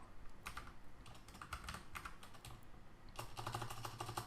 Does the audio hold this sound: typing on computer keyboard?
yes